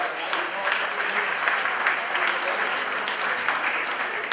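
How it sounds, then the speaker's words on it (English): A crowd applauds at a gala, a sustained wash of clapping that holds steady throughout. "Give them a big round of applause."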